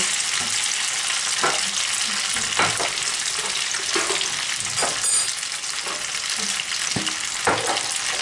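Sliced beef loin and peppers sizzle steadily in a hot pan as soy sauce goes in, loud and close, with repeated scraping stirs breaking the constant frying hiss every second or so.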